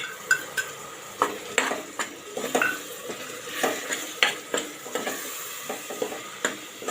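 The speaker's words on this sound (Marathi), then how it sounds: "चांगली परतून घेऊया एखाद मिनिट हे मसाले सर्व परतून घ्यायचे" Ginger, garlic, chili and coriander paste sizzles with spices in a pot for pea pulao, punctuated by a steady run of sharp spoon scrapes and stirring knocks, close and fairly loud, with no talk.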